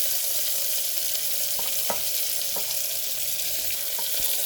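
Onions and green chillies sizzle steadily in a hot pan, with a continuous frying hiss broken by a few soft stirring clicks and scrapes, close and alone.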